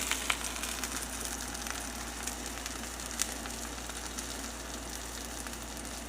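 A keto-breaded cubed pork steak fries in a pan, making a steady moderate sizzle with a few small pops over a constant low hum.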